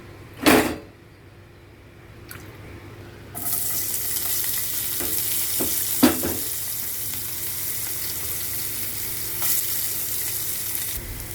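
Curry ingredients fry and sizzle in a pan, with a loud clank near the start, then a steady hiss that swells as more food hits the oil, broken by scraping stirs and light utensil taps.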